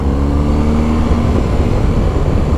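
A BMW 1250 GS motorcycle engine hums steadily while riding, a loud continuous low drone with wind rush and no talk.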